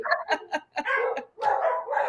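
Several dogs bark in a quick burst of short yaps and bow-wows, then break into longer, drawn-out yelping barks, fairly close and clear with no talking over them.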